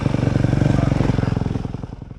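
A Yamaha YZ250FX dirt bike engine at an enduro race, running loud and close with a steady, rapid firing pulse that holds through the clip and eases slightly toward the end.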